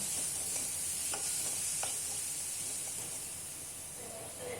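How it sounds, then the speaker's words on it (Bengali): Ginger-garlic masala for mutton curry sizzling and frying steadily in a pan, with a constant hiss and occasional soft scrapes of stirring, close and without talk. "এটাকে খুব ভালোভাবে কষতে হবে, যতক্ষণ না আদা রসুনের কাঁচা গন্ধটা যাবে ততক্ষণ এটাকে খুব ভালোভাবে কষতে হবে"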